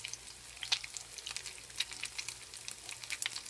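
Fish puppies frying in a pan of hot oil: a steady, soft crackle and sizzle with scattered little pops, close and fairly quiet, with no talking.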